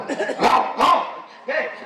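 A man imitates a dog barking on a Tamil comedy stage show, giving two loud, close woofs followed by a shorter yip, all delivered vocally.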